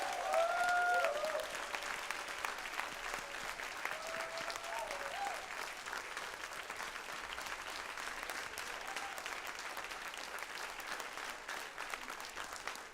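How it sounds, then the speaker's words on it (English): An audience at a town hall in Greenville, South Carolina applauds steadily for about thirteen seconds, a dense, even wash of clapping heard from a distance, with a brief voice over it at the start. "Let's give her a round of applause."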